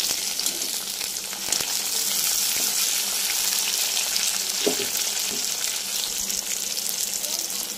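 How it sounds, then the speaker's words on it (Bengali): Chopped tomatoes fry with onion in a pan, a constant close sizzle broken by a few soft stirring scrapes and taps, without any voice. "তো টমেটোগুলো দিয়ে ভালো করে ভেজে নেব।"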